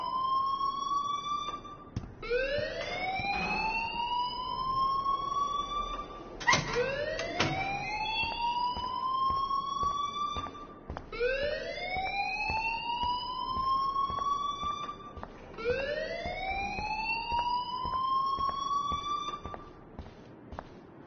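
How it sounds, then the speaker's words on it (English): A rising-and-falling electronic alarm wails in the Life is Strange video game, sweeping upward in repeated cycles about every four seconds, loud and steady with no voices. "please turn off that alarm since that's your job"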